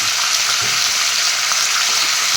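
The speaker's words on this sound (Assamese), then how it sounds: "এইখিনিয়ে এনেদৰে তল ওপৰ কৰি লৰাই দিম।" Turmeric, chilli, coriander and cumin powders get turned over in a chicken curry pan, a loud steady frying hiss with faint stirring underneath, close and without voices.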